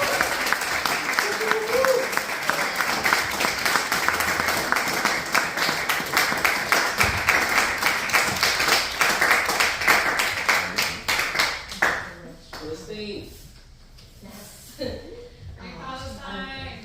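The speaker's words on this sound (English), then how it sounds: "If you don't mind putting y'all hands together, left hand, right hand" Audience applause and clapping at an open mic for Palestine, a dense, loud wash of many hands lasting about twelve seconds before fading into scattered claps, with a voice talking through the tail end.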